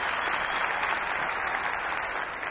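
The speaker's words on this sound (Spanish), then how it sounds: "Un aplauso a Huitzilopochtli" A crowd claps in sustained, dense applause at a lively comedy show, loud and steady with no talking over it.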